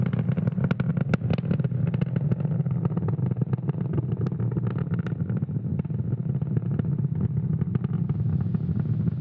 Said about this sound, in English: Moments ago, we did throttle the engines down in preparation for max Q, Falcon 9 is supersonic.